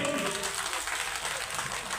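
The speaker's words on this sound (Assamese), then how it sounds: "আমাৰ সকলোৱে এটা হাত চাপৰি" Continuous crowd applause at a public speech gathering, a dense wash of clapping heard from within the audience, fairly steady throughout.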